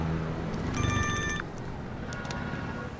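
A phone rings with a short electronic trill, fairly faint and brief, over steady background noise in a comedy scene, with no talk during the ring.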